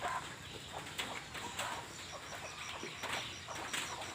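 Chickens clucking at a distance in an outdoor yard by a motorpool office, faint and scattered over a steady background hiss, with no talking.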